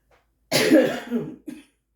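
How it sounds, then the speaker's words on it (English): A single harsh, close cough bursts out, rasping for nearly a second, followed by a short second cough. "One day I will be rid of this cough."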